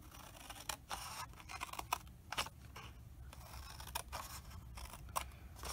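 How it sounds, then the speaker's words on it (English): Snips cut through card for a matchbox, giving a series of crisp, close snipping crunches spaced irregularly across a quiet background. "we just need some snips, and what we're going to do is we're going to cut up these 2 lines to the second score line"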